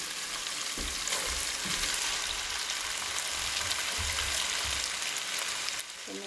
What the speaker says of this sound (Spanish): Vamos a agregar ahí la pasta.